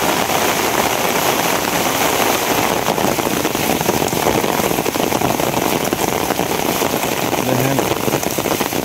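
Dense, constant downpour roars nearby, a broad hiss of heavy rain drumming on surfaces that holds level throughout, with a faint low rumble underneath and a short tonal blip late on.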